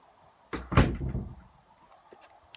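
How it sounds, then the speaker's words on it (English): A door shut indoors at home, a solid thump followed by a short rattling clatter and a faint knock, close and moderately loud, then quiet. "Better just shut the door so there's no noise."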